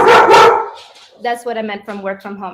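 A dog at home gives two sharp, loud barks at the very start, then a person speaks over quiet background as a remote work-from-home talk continues.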